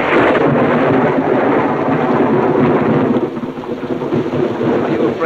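A long, loud roll of thunder rumbling continuously, with steady rain falling throughout and no voices.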